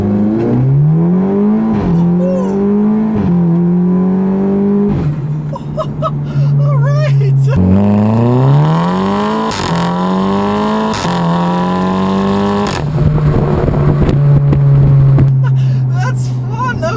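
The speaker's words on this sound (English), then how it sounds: "let's turn down onto this back road here and see how this APR Stage 2 TTS does" A 2009 Audi TTS with an APR Stage 2 tune accelerates hard on a back road, its engine note climbing loudly through repeated gear changes with brief dips between pulls.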